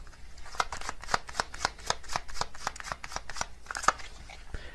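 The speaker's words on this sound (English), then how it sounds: "I'm going to get another card from this deck as well." Tarot cards being shuffled and drawn from a deck, a steady run of crisp riffling flicks and soft slaps, close and fairly quiet, with no talking.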